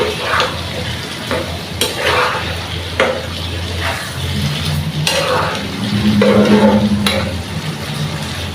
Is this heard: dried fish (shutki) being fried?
yes